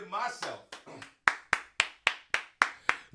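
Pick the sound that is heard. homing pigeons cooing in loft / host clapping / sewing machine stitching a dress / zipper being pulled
host clapping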